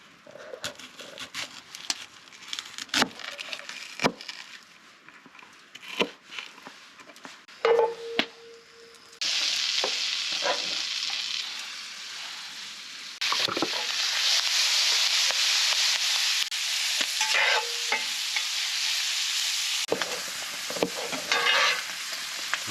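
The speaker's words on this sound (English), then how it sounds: "We fry up the andouille and then put in the dirty rice, mix it all together" Andouille sausage and dirty rice frying in a pan at a snowy truck-bed campsite in the Oregon Coast Range, a steady loud sizzle swelling midway with intermittent scraping stirs and clanks, no talk.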